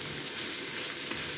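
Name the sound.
stirring quail curry with curry leaves in pan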